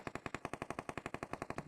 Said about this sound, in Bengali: গুলি চালাচ্ছে তো।